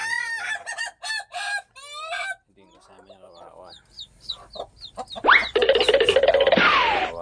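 Chickens cluck and a rooster crows loudly nearby, with a person speaking in between the bird calls.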